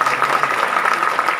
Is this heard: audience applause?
yes